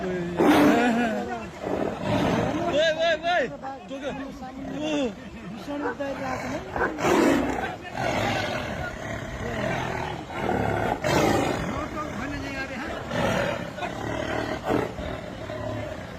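Deep, rumbling tiger roars and growls at a dog come in repeated surges, close and loud, with people talking over them at times.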